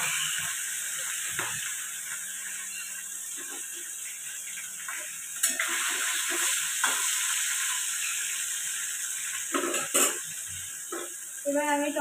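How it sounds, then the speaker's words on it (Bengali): Fish pieces fry in a pan with a steady, close sizzle, broken by occasional clinks and scraping of utensils, while a person talks over it. "এদিকে আমি মাছটা ভাজতে দিয়েছি।"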